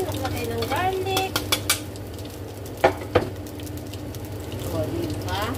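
Garlic hits a hot pan and fries with a steady sizzle, punctuated by clinks of a utensil against the pan and a few sharp metallic taps; a voice talks over the cooking.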